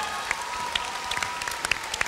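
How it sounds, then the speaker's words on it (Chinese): Studio audience applauding four contestants on a Cantonese-song round of a televised singing competition, a steady roar of clapping with a few sharp, prominent claps standing out near the front. "再次俾掌声俾四位"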